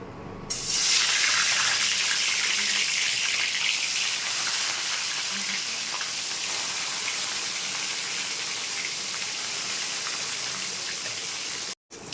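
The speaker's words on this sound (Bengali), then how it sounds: "তেলটা গরম হয়ে গেছে, এবার মাছটা দিয়ে দেবো।" Rohu fish sizzles vigorously in hot mustard oil in a kadai, a loud continuous crackling hiss that starts abruptly and holds steady at close range, with a brief cut near the end.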